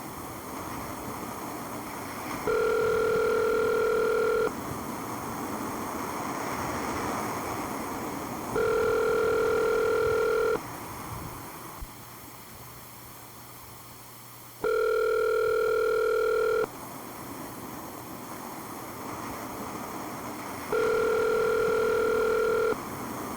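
Repeated telephone ringback tone on a call, four evenly spaced two-second electronic rings with long quiet gaps between them, heard clearly through the line.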